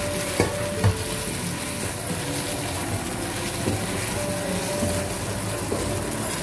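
Fried chicken stir-fried with sugar and soy sauce sizzles steadily in a pan, close up, with a few sharp clanks of a utensil early on and soft scraping stirs throughout; no speech.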